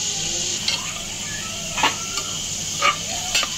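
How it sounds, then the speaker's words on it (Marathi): Whole spices and mustard seeds tempering in hot oil and ghee in a pan for a Jain biryani, a constant sizzle with a few soft scrapes and stirring clinks. "तर यामध्ये तूपसुद्धा घेतलेला आहे, तेल तुपाची फोडणी देऊन भाजी बनवत आहे"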